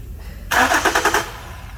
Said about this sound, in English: you heard the engine crank just now